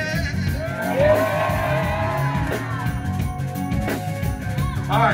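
Audience at a live concert at Blue Note NYC, whooping and shouting yeah together in a loud burst over the band's groove, with the crowd noise fading and flaring again.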